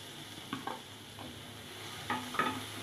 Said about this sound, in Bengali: এখন শুটকিটা একটু টেলে নিব